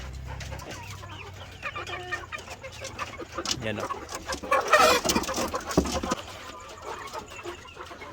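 Game fowl, Asil and Rhode Island Red chickens cluck and squawk nearby, with a burst of louder agitated calls in the middle, while someone speaks briefly.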